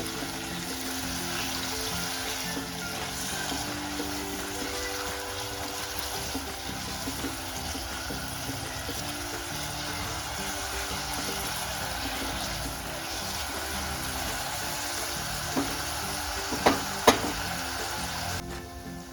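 Tomatoes with a little salt sautéing in a pressure cooker for a soybean pulao, giving a steady close sizzle and fry that continues evenly, with a few clinks near the end.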